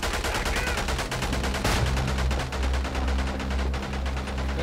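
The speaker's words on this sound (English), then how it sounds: "Guns, artillery, artillery, artillery." Dense World War I battle din from the video game Isonzo: continuous rapid gunfire mixed with deep artillery rumbles, loud and sustained without pause.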